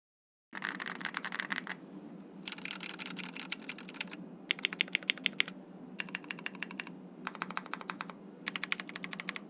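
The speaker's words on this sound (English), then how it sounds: "most of the sound comes purely from the switches, keycaps, and the plate itself." Rapid typing in bursts on a KBDFans Tiger 80 mechanical keyboard, crisp deep key clacks in fast runs separated by short pauses, close and clear with no voices.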